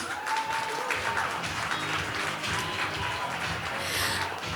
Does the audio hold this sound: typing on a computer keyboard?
no